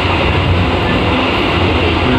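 Inside an economy-class local train riding toward Surabaya, a loud, steady rumble of wheels and carriage noise fills the space without a break, with no voices.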